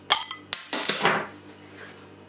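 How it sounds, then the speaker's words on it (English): A bottle of Mikkeller Green Gold IPA beer being opened, with a couple of sharp metallic clinks and a rattling cap sound close up, fading into a quiet room. "Let's get this beer open."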